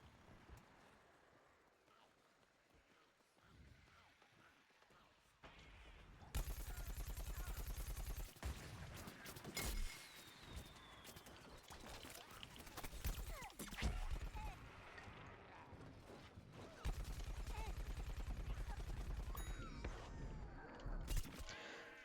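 Gunfire in the Plants vs. Zombies Garden Warfare video game rattles in dense bursts with brief pauses, loud in the mix, as a player talks over the shooting.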